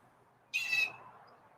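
A pet bird gives a single short bright squawking call indoors, brief and fairly close, against a quiet room background.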